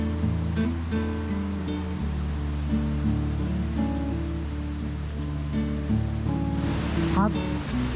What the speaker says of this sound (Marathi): हा तुम्हाला पाण्याचा आवाज येतोय तो आहे माकड्याचा ओढा.